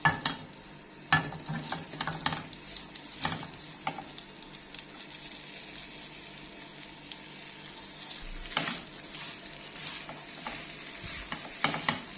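Shrimp frying in butter and olive oil in a pan, a steady close sizzle broken by scraping and clinking as a utensil stirs them now and then.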